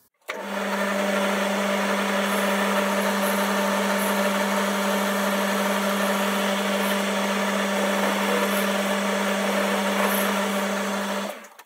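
A metal lathe turns a Morse taper down to size, its motor running in a steady, even drone with a strong low hum and a constant higher whine, starting up and winding down at either end.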